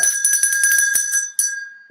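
A short notification bell chime rings out clearly, a bright sustained tone with a quick run of tinkling jingles and a second strike near the end, with no talk.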